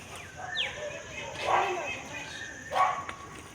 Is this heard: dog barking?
yes